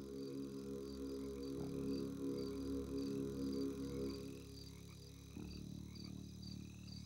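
A dense chorus of toads croaking in a freshwater pond, steady and continuous, with layered low throaty calls and a high insect-like trill running throughout.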